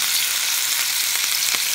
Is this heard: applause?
no